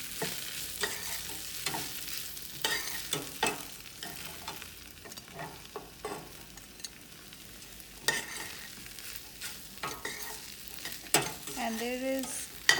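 Soaked poha being mixed into vegetables in a pan for Indore-style poha, a soft sizzle under intermittent scraping and stirring strokes of a spatula, close and fairly quiet, with no talk.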